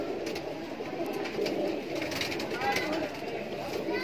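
Kaldume pigeons at a loft giving soft, repeated coos close by, with people talking in the background.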